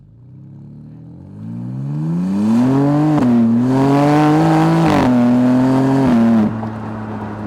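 A BMW M2 G87 with its six-cylinder engine heard from outside as the car drives past, a loud rising engine note that climbs through gears with brief dips at the shifts, then drops away as it passes.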